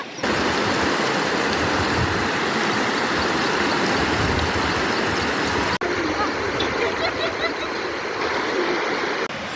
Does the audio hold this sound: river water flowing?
yes